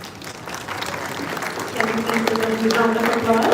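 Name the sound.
audience applause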